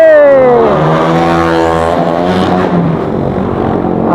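A motorcycle roars off close by, its loud engine note sweeping down in pitch as it accelerates away, then settling into a steady fading drone.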